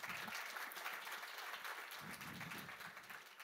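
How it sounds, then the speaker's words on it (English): A conference audience at Devcon3 applauds in an afternoon session for speaker Lex; dense, steady clapping from many hands fills the room for the full stretch without letup. "So please give Lex a round of applause."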